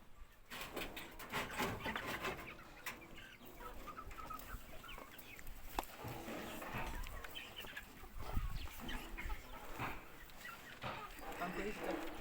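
Hens cluck continuously in a battery cage poultry house, many birds at once at moderate distance, with occasional wing flaps and a person talking over the flock.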